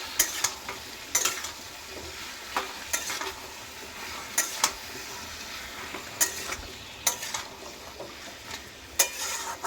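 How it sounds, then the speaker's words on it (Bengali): Raw green mango pickle with salt is stirred in a pan, producing repeated scraping strokes at irregular intervals over a soft continuous sizzle, close and fairly loud. "লবণটা দিয়েও নাড়াচাড়া দেবো"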